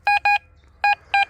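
Quest X10 Pro metal detector swept over metal gives four clipped electronic beeps, two quick ones, a pause, then two more, close and clear over faint background hum.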